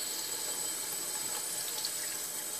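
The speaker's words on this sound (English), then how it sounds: "I'm hoping you'll be able to hear me over the running water." Water runs steadily from a tap into a sink as parts are wetted during a free-flight model aircraft build, a constant close hiss with no voices.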